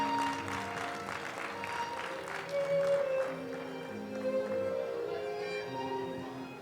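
An audience at the Cannes film festival applauds a film team on the red-carpet steps: sustained, moderately distant clapping mixed with a crowd murmur and a few faint tones, with no talking.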